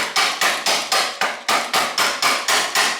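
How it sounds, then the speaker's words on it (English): A wooden mallet strikes a wrench on the bottom bracket of a vintage Peugeot bicycle. About a dozen sharp, evenly spaced taps come close up in a quick steady rhythm, each with a short ringing decay. "So I'm going to use the wooden mallet, tap it on there to get this nice and tight."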